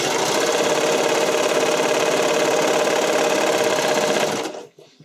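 A sewing machine stitches the side seam of a skating dress, a loud, steady, fast mechanical whir with rapid needle ticking that runs continuously up close before stopping abruptly near the end.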